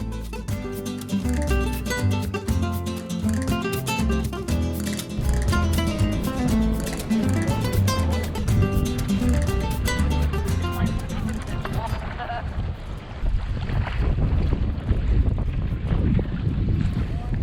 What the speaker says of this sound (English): We set out in the kayaks with the wind at our backs. Perhaps a bit more wind than some would have preferred.